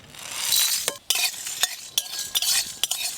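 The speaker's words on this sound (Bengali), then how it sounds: "গোটা মশলার মধ্যে নিয়েছি এলাচ, লবঙ্গ, দারুচিনি, জিরে, ধনে, শুকনো লঙ্কা আর গোটা গোলমরিচ, সব একসঙ্গে ভেজে নেব।" Whole cardamom, cloves, cinnamon, cumin, coriander seed, dried red chillies and black peppercorns frying together in a kadai, heard as a hiss with scraping stirs and a few sharp clinks of a utensil, close by and with no voices.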